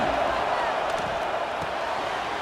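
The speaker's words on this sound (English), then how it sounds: "Listen to the crowd energy here in the early going." A football stadium crowd during a game against Texas fills the air with a dense, constant roar of many voices, steady and fairly distant, with occasional whoops rising from the mass.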